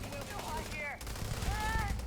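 Gunfire in the space video game Starfield, a short rapid burst of shots under steady game sound and music, with a voice talking over it.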